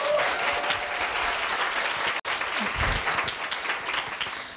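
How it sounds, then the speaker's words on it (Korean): A school audience gives warm applause for a middle school student speaker about to present, dense clapping sustained throughout with a brief dropout midway, no voices over it. "첫 번째라서 많이 떨릴 텐데 큰 박수로 맞아주시기 바랍니다"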